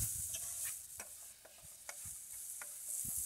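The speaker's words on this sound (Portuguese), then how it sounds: "Cheirinho de bacon frito com calabresa e alho." Bacon frying with calabresa sausage and garlic in a pan, a soft continuous sizzle with scattered stirring scrapes and taps, close up with no talking.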